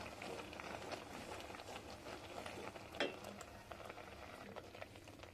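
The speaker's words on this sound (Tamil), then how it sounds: "இப்போ பாருங்கள், நல்லா கொதிக்குது." Poppy seed payasam simmers at a rolling boil in a covered pot, giving a steady low bubbling and rumbling hiss throughout, with a faint metallic clink partway through.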